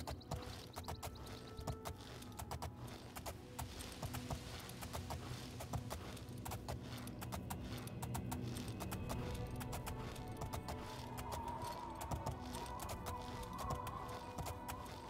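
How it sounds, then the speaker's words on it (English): Horses in the Oblivion video game clip-clopping along with steady, close hoofbeats in a running rhythm over fifteen seconds, a continuous patter with faint background ambience and no talking. "Get on your horses."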